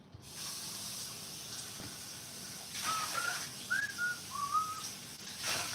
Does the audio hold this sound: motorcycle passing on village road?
no